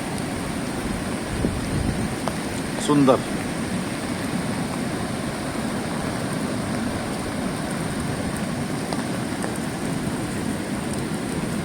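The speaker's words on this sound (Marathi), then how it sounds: "जबरदस्त पाऊस आहे." Heavy rain pours at a wild, untouched beach with a rough sea, a dense steady wash of noise throughout, with someone briefly speaking over it.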